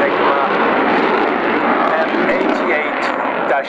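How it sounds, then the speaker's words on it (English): A French Air Force Dassault Rafale twin-engine jet with Snecma M88-2 engines roars steadily overhead at an air show, a loud broadband rumble and whoosh, with a commentator's voice over it. "It's a twin engine aircraft."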